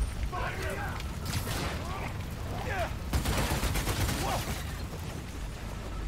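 Bursts of gunfire ring out in the game Marvel's Spider-Man: Miles Morales, with sharp repeated cracks mixed with booming noise and game sounds, heard under someone talking excitedly.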